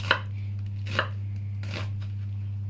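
An onion is chopped with a knife on a board, three distinct chops spaced under a second apart, close and clear over a steady low hum with no talking.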